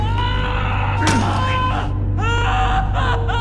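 A man screams in intense agony as an electric drill bores into his calf in an action movie, loud drawn-out wails rising and breaking in several bursts.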